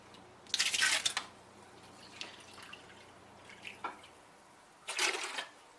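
Apple cider vinegar poured into a pot in two short splashing bursts, the first near the start and the second near the end, with quieter drips and small clinks between them and no talking.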